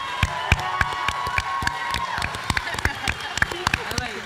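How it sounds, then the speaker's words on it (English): A school History Bowl audience applauds the team captain, scattered crisp claps repeating steadily over a murmur of voices and a few children's calls. "Give her a big round of applause."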